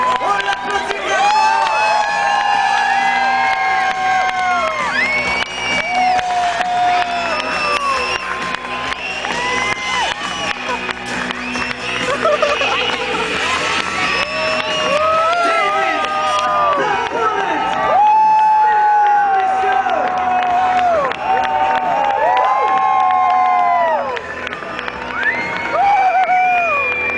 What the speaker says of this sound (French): On l'applaudit vraiment.